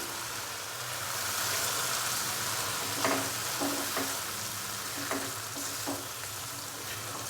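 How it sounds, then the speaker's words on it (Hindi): Chicken with tomatoes, a little water and masala fries in a pan for a lobia chicken dish, a steady close sizzle broken by several scraping knocks of the spoon as it is stirred. "चिकन को मसाले के साथ हम मज़ीद भून लेंगे 4 से 5 मिनट के लिए"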